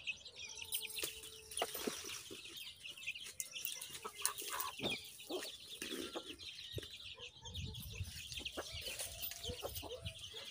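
Village chickens cluck softly while feeding on termites, with scattered sharp pecks and scratches close by and occasional chirps over a quiet background.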